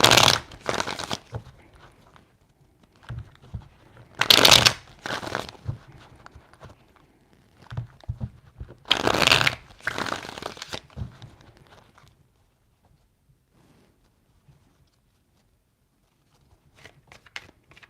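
A deck of tarot cards shuffled three times in loud papery riffling bursts, close up, with softer handling rustles between and quiet afterward.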